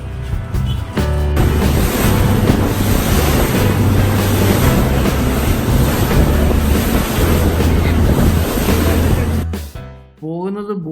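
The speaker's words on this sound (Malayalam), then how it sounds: "അവിടുത്തെ സ്പീഡ് ബോട്ടിലാണ് പോകുന്നത്" A speedboat bound for Nusa Penida island roars through the sea in a loud, steady wash of engine drone, wind buffeting and spray, which drops off abruptly near the end.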